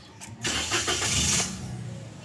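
A Toyota Wigo engine with misfiring and dashboard vibration cranks briefly and catches, then settles into a steady idle; close and moderately loud with no talking.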